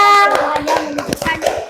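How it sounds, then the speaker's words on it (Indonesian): Classroom pupils clapping for a student group, a scattered patter of hand claps with overlapping children's voices and chatter throughout the short burst. "Beri tepuk tangan buat kelompok"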